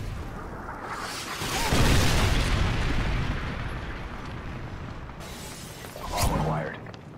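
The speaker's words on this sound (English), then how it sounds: "He's got a pred missile. It's gonna kill everybody." A predator missile slams down in Call of Duty MW2 search and destroy, bringing a loud, booming explosion that swells and decays, followed by a second, shorter blast, while a player talks over it.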